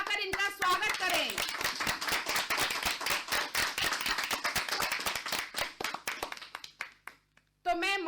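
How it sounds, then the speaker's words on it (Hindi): Lively applause from an audience welcoming a guest at a school event, crisp overlapping claps close and loud that thin out and fade before a voice returns at the end. "तालियां बजाकर इनका स्वागत करें"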